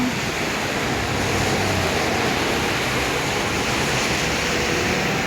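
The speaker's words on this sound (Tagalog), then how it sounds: "Umuulan sa Kuwait ngayon." Steady rain pours down in Kuwait among tall buildings, a dense, continuous hiss that stays even and fairly loud throughout with no voices.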